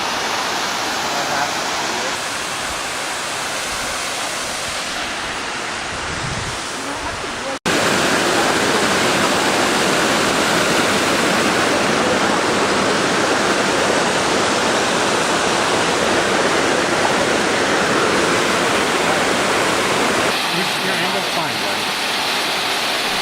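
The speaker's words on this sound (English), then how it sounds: "There's the waterfall" A mountain waterfall in Colorado roars as a loud, steady broadband rush of falling water, quieter and more distant for the first few seconds before swelling up close.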